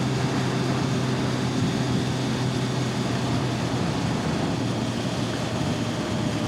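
A Honda Blackbird motorcycle engine runs at just under 4,000 RPM with original Honda exhausts, producing a steady, loud droning hum that holds constant throughout without any talking.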